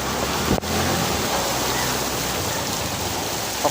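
Strong wind roars continuously against the microphone, a dense, rushing buffeting noise with no pauses and no voices.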